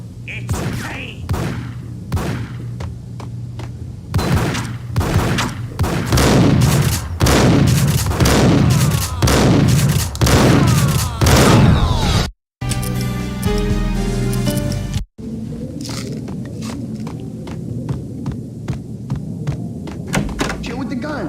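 Rapid bursts of gunfire ring out in the video game Max Payne, loud and repeated over a deep throbbing hum and broken by two abrupt cuts to silence.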